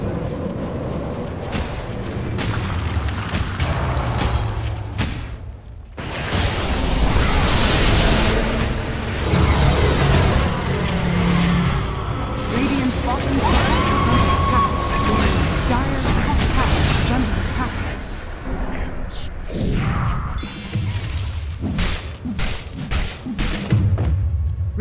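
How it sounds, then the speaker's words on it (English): Thumping impacts, booming and combat noise fill a Dota 2 match as towers come under attack, dense and continuous with layered game effects and a brief lull around the middle. "Dire's top tower is under attack."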